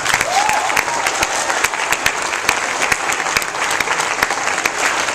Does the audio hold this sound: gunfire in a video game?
no